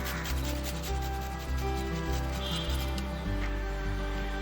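Garlic is grated by hand in a home kitchen for an egg cutlet, a close, continuous scraping rub with a steady back-and-forth rhythm.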